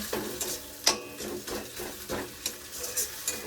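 Onion and chilli fry in a little leftover fish oil, a soft sizzle under repeated scraping strokes of a spoon stirring in the pan, fairly quiet and close.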